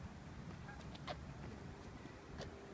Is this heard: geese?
yes